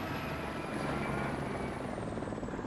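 A helicopter in the video game Far Cry 6 drones with a steady, loud rotor and engine roar that holds constant throughout, with no voices over it.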